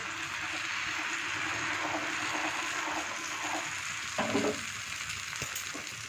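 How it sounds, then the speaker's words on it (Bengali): Patishapta batter sizzling as it is spread across a hot greased pan, a continuous soft hiss with faint scraping and a brief clatter near the end, no talk heard. "প্যানটা গরম হয়ে যেতেই তারপরে আমি দেখো বাটারটা দিয়ে দিচ্ছি ব্যাটারটা ভালো করে দেখো দিয়ে ভালো করে একটু ছড়িয়ে দিচ্ছি"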